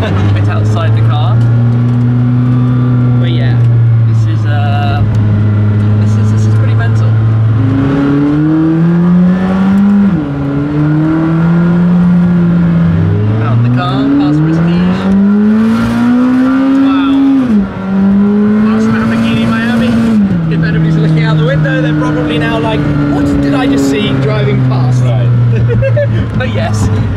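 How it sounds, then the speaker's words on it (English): A McLaren Senna GTR engine howls loudly from close by on a wet track, its pitch climbing and dropping through repeated gear changes over the whole stretch. "the car is running on wet"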